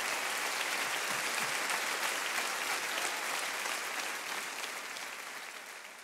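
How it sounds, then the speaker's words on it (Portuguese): An audience at a live folk music concert in Rio de Janeiro gives a big round of applause, dense and steady clapping that stays loud throughout and fades slightly toward the end. "Uma grande salva de palmas para ele."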